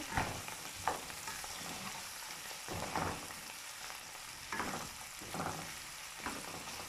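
Peppered gizzard being mixed in a pan, a steady low sizzle with intermittent scraping strokes of a spoon against the pan, close and moderately quiet with no talking.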